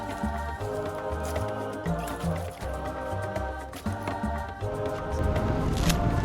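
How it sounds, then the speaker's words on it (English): Coconut juice is poured from coconuts into an aluminum flask, heard as close, wet squishing and dripping with a steadier trickle of liquid building toward the end. "poured all the juice from them into the aluminum flask"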